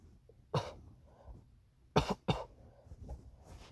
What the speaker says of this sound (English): I started to cough up a bit